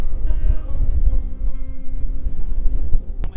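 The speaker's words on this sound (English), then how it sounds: "It is very windy still today." Strong wind buffets loudly and continuously, a low rumbling roar of gusts with faint tonal hum underneath.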